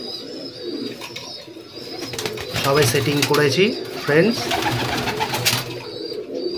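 Madrasi pigeons, Arshad line chicks, coo in repeated soft throaty rolls close by, layered under someone speaking steadily throughout.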